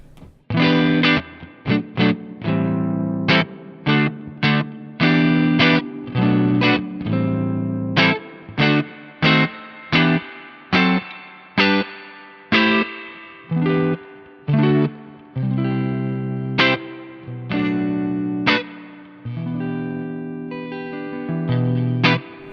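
Distorted electric guitar through a Hamstead Artist 60+RT tube amplifier plays a run of plucked notes and chords, each attack sharp, with a warm overdriven tone and ringing sustain.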